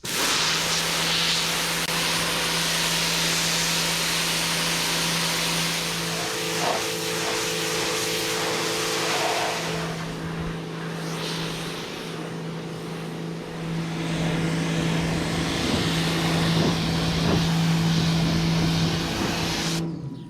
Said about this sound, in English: we're gonna take a pressure washer to this, knock as much of that old paint off of there as possible